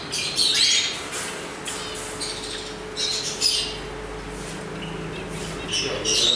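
Finches and parrots at a busy bird market make a constant mix of squawks and high chirps over a low background hum, with sharp calls standing out near and far throughout.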